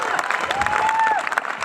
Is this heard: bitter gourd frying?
no